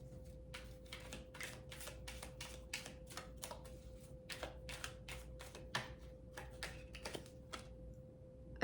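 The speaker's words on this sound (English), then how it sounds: "let's do a little shuffling." Tarot cards being shuffled by hand, a run of quick crisp riffling and tapping bursts in irregular rhythm, close and fairly soft over a faint steady hum.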